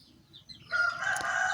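A rooster crows close by near an Indonesian kitchen where chickens and fowl roam, a single loud crow rising after a few faint clucks.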